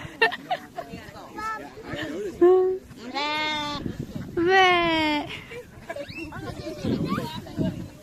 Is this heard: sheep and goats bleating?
yes